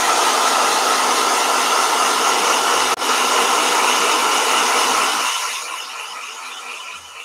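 A hair blow dryer runs loudly and steadily with a whining hiss, then drops to a lower, quieter setting for the last couple of seconds.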